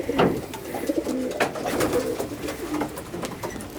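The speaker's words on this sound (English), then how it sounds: "And these are the old birds, right?" Racing pigeons cooing inside a loft, soft repeated rolling coos from several birds close by, steady and unhurried, with no talk.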